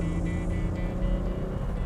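A Mazda 2.5-litre V6 swapped into a small Vauxhall Viva gives a loud, smooth, steady engine drone at high revs, close up and with no talking.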